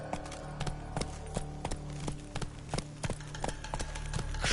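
Horse hooves clip-clop at a steady galloping rhythm in a video game, each hoofbeat sharp and fairly close over a continuous low ambient rumble.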